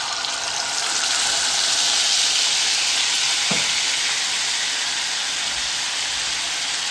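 Masala paste for an eggplant dish sizzles and fries loudly in hot oil in a home kitchen, a steady bright hiss with a brief stirring scrape midway and no talk.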